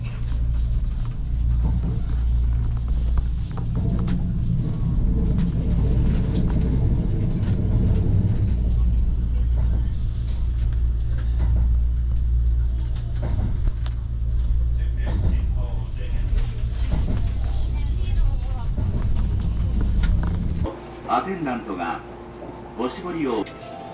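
Kintetsu Shimakaze limited express train heard from inside while running, a steady loud low rumble throughout that drops away near the end. Faint voices can be heard over it.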